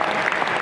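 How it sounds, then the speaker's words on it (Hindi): Audience applause at an RCM 24th anniversary event, a dense, loud burst of many hands clapping that fills the short moment without a break. "अपने आप थोड़ी सी ताली बजा दो अगर अच्छी बात लग रही हो तो।"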